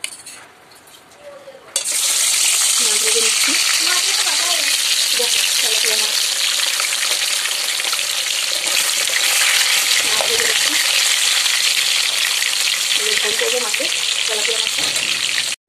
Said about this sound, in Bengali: এই যে মাছ ভেজে নেবো এখন